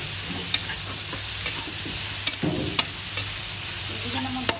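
Onion and tomato sautéing for Filipino pork munggo, with a steady sizzle in the pan, occasional stirring clinks and scrapes, close and moderately loud, no talking.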